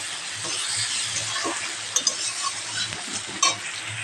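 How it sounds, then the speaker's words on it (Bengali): Onions fry in hot oil in a pan with a loud, continuous close sizzle, while a stirring utensil clinks against the pan a few times near the middle and end. "পেঁয়াজটা আমি ভাজতে থাকবো এখানে।"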